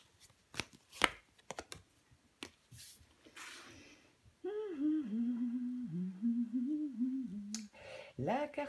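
Tarot cards being handled and laid down during a reading, with a few sharp snaps and soft shuffling taps early on, followed by a speaking voice.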